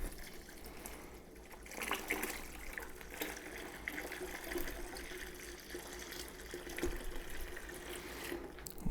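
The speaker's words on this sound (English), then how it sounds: "we're just going to start bringing in some cool water. Here's a gallon." Cool water pours steadily from a gallon jug into a homebrew fermenter during a Kolsch brew day, a continuous splashing gush with small gurgles and bubbles, fairly quiet and close, with no talking.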